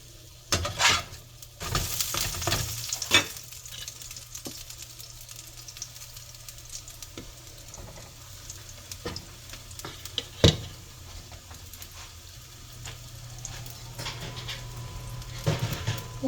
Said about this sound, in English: Once these steaks start sizzling down